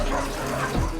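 Dogs at a rural Chinese research breeding facility bark in a dense, reverberant chorus, a short burst of overlapping barks from a large kennel at moderate distance.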